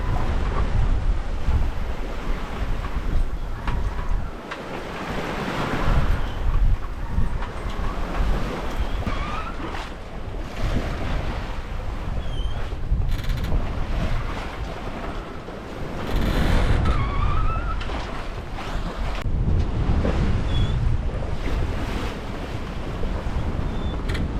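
Wind and breaking waves rush steadily around a sailboat making over 5 knots on a passage toward Martinique, a continuous loud roar of water and gusting wind noise on the microphone with occasional louder surges and no talking.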